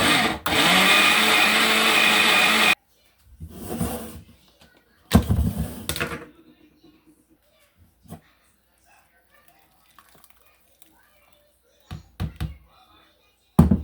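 A kitchen blender whirs loudly for a few seconds while blending rice dish ingredients with guinea fowl. Shorter bursts and knocks follow, then quiet stretches broken by occasional clatter.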